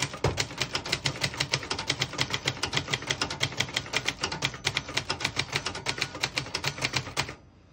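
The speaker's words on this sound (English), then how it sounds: "I'll type a sentence in red on the next line." Rapid, even keystrokes on a 1967 Brother XL-500 portable typewriter, a steady run of sharp clacks typing a line, ending abruptly with a quieter tail.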